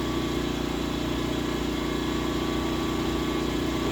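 An A-iPower SUA 2000i portable generator engine runs steadily under a light load while powering an outdoor fan, giving a continuous, even hum with no pauses or changes in speed.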